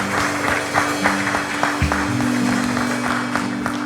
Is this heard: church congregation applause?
yes